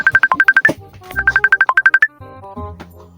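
A mobile phone rings on an outgoing call: two bursts of rapid, bright electronic beeps, each ending in a higher tone, then a brief low rumble, all close and loud.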